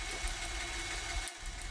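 A small working two-stroke combustion engine built from LEGO runs steadily close up, a continuous buzzing drone with a brief dip near the end, no talking.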